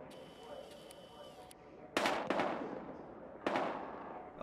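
Two or three sharp gunshots crack out in the video game Battlefield Hardline, the first pair close together and another a second later, over a low steady electronic hum.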